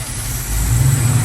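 Big block Trans Am engine idling on choke while warming up, a low steady rumble that swells slightly partway through, close and alone with no talk.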